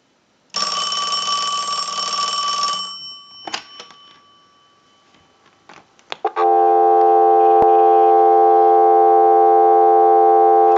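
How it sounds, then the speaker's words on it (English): A ringing burst and a few clicks give way to a loud, steady telephone dial tone that hums on without a break, from a Western Electric Princess rotary dial telephone. "we'll give you some dial tone"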